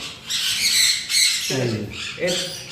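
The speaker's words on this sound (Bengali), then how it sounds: "সেনেগাল প্যারট, প্যারট গ্রুপের এটা একটা পাখি" A Senegal parrot in an aviary gives a run of harsh, close squawks, three or four loud rasping calls in quick succession with brief gaps between them.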